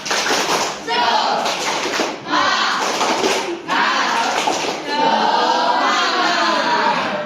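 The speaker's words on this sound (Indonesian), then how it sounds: "Sekali lagi, tepuk semangat." A classroom of children claps the rhythmic 'tepuk semangat' cheer together in a rapid pattern, several bursts separated by short pauses, loud and close, with children's voices mixed in.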